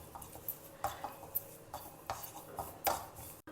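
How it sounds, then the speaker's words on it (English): Curry leaves dry roast in a pan while a utensil scrapes and taps the metal in soft, irregular clinks, faint and close with no speech. "A few washed curry leaves. We will dry roast this also."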